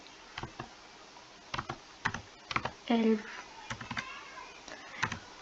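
Keystrokes on a computer keyboard while coding a linked-list 'Add Two Numbers' solution: irregular bursts of close, crisp clicks, with a short voice-like sound midway.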